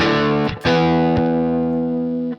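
An electric guitar played through the UK Invasion preset of a Sonicake Pocket Master, with a distorted chord struck, briefly choked, then restruck and left to sustain loudly for about two seconds before cutting off.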